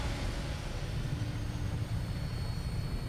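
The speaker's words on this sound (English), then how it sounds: "All systems go. We're clear for takeoff." Steady, even engine roar of an aircraft taking off in the video game Fallout 4, a dense continuous drone with deep low rumble and no talk over it.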